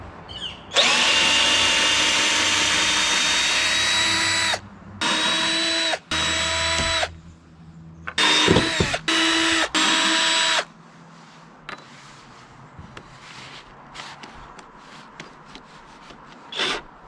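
A power drill backs screws out of deck boards, whining loudly in several bursts of varying length separated by short pauses, then leaving quieter scraping and handling noises.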